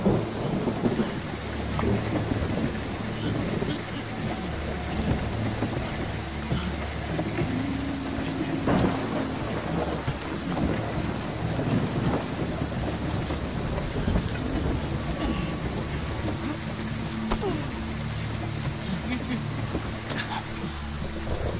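Heavy rain pours steadily as thunder rolls and rumbles repeatedly in a thunderstorm outdoors, with dense, continuous noise throughout.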